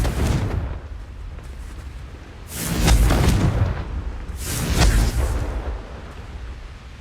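Confringo fire spell blasts in the Hogwarts Legacy video game: two loud, booming explosive bursts about two seconds apart, each rumbling and decaying over a steady background of game ambience.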